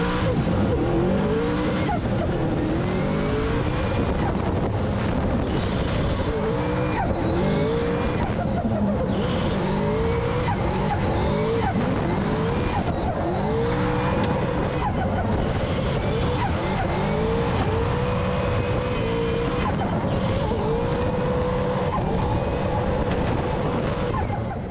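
Toyota GT86 AISIN race cars lap the Calmont hill-climb circuit, engines revving hard and shifting continuously through corners, with tyre squeal, loud and close throughout.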